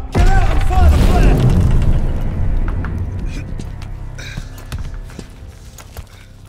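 Artillery bombardment explodes in a Call of Duty: Vanguard cutscene. A loud deep blast opens with heavy rumble and scattered debris, then fades into a rattling, clattering tail with smaller mechanical clanks.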